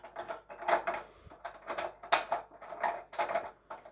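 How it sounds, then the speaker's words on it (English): Screws are loosened on a Thorn 8-foot fluorescent striplight fitting, giving faint, close ratcheting clicks in short regular bursts, about two per second. "all I have to do is just loosen the screws up"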